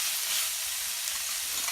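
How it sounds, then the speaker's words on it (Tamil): Shallots sauté in hot oil with mustard seeds and curry leaves, giving a steady, close, dense hiss of frying with no pauses. "வெங்காயம் வதங்கிடுது."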